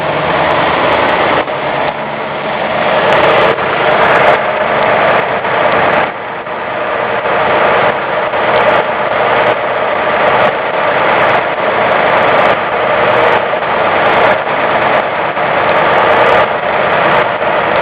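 A 1965 Mercury car engine idles steadily after a cold start, a loud, continuous rough running drone with faint irregular ticks throughout and no voices.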